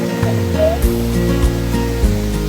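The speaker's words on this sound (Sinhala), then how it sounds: "මේ ඇල්ල අලු පොළ ඇල්ල ඔයාට බලා ගන්න පුළුවන් වෙන්නේ" The Alu Pola Ella waterfall near Ratnapura pours in a steady, loud, broadband rush, with a few low thumps breaking through.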